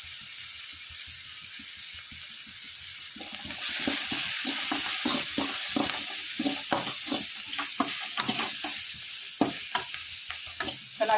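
Onions sautéing in a pan with turmeric and chili powder, a steady sizzle broken by repeated scraping stirs that grow louder and more frequent partway through.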